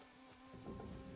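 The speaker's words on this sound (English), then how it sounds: "totally convincing rain" Steady rain falling in a medieval siege film, a dense broadband hiss of drops on surfaces with a low rumble swelling toward the end, continuous and fairly close, with no voices.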